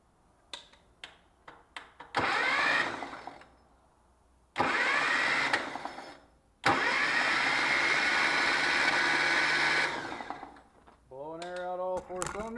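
A starter cranks the engine of a 1977 International Cub tractor in three loud bursts separated by pauses. Short clicks come before the cranking, and a voice follows after it.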